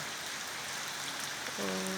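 Heavy Sunday-morning rain pours down in Pattani, southern Thailand, a dense, loud, steady roar of drops, with a faint tonal sound entering near the end.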